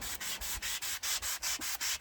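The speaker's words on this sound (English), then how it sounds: "I'm just going to sand this off" A wooden 2x4 trim piece is sanded by hand in quick, even back-and-forth strokes, about nine in two seconds. The rasping is close but soft, with no voices.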